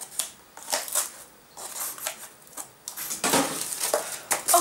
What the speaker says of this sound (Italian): questo cartoncino permette anche il taglio con le forbici